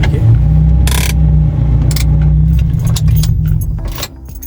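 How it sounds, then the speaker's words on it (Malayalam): A car's engine runs steadily while it is parked on a mountain road near Khorfakkan, with a few sharp rattles and jingles over the low hum before it quietens at the end. "ഓക്കെ, വണ്ടി നമുക്കിവിടെ പാർക്ക് ചെയ്യാം."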